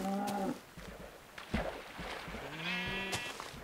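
Cow lowing in Minecraft, two drawn-out tonal moos, one at the start and another near the end, with a soft thump between them in a quiet setting.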